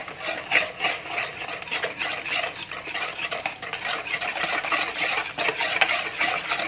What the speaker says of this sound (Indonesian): Dan langsung saja ini kita aduk. Aduknya sampai kapan? Sampai gulanya larut.